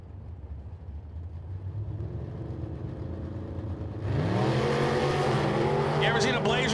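A 1985 S10 Blazer drag races at Collinsville, Oklahoma, its engine roaring loud and close with rising harmonic pitch as it launches and pulls hard, a steady rumble giving way to a fuller, louder scream.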